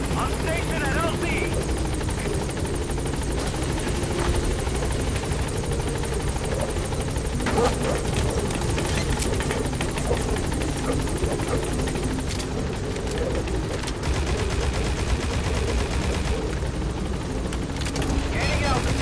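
A helicopter in the Metal Gear Solid V video game flies steadily overhead, a continuous dense rotor roar and whine that stays loud throughout, with radio-style voices talking under it.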